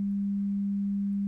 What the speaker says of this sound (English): an oscillator, a sine wave oscillator